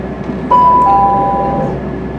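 A train departs Bridlington station on the Yorkshire Coast Line, giving a sudden loud tonal chime followed by a sustained hum and rumble of the train at close range.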